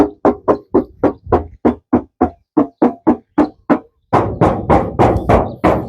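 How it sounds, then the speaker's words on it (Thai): Knuckles rap on the body of a used Toyota Mighty pickup truck: a steady, evenly spaced series of close, crisp knocks that then turns into a louder, quicker burst of rapping. "ฟังเสียงเคาะครับนี่ ฟังเสียงเคาะบางๆนะครับ"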